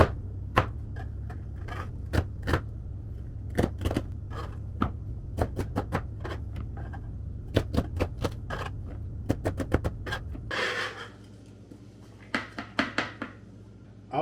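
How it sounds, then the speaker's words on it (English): A knife chops the dirty ends off celery in a home kitchen, sharp distinct cuts against a board repeating irregularly, close and moderately quiet, with a few clattering knocks near the end. "So all these dirty ends we're going to cut off."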